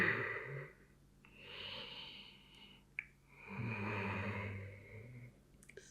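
Slow yoga breaths held during a sun salutation, several long airy inhales and exhales with soft pauses between them, close and quiet.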